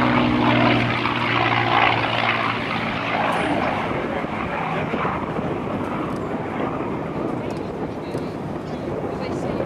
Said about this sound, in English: V12 Merlin engines were manufactured by the Packard Motor Car Company in New York than by Rolls-Royce.